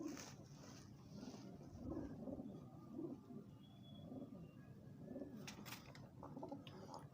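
A pigeon with an eye infection coos softly in repeated low phrases, close by, over a faint background hum with a few brief higher noises.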